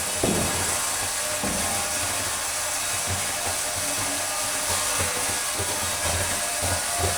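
SOVDA coffee bean sorting machine running in a roastery: a constant loud mechanical whir with scattered clicks and rattles throughout.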